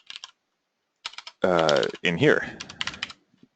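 Short bursts of clicking keystrokes on a computer keyboard, entering commands in PuTTY during a cybersecurity lesson, with typing heard before and between stretches of someone speaking close to the microphone.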